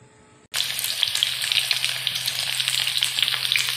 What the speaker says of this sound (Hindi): पहले हम आलू को फ्राई करके लेगा।